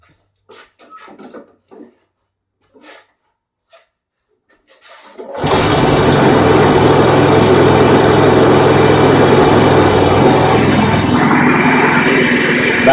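A small homemade 12-volt generator engine starts abruptly after a few scattered quiet knocks, then holds a loud, steady, close idle with a rough low drone for the rest.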